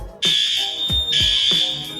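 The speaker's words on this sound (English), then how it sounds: "Did you set off the fire alarm?" A building fire alarm sounds during a scheduled alarm test at a dental office. Its loud, steady high-pitched tone is punctuated by repeated low pulses at close range.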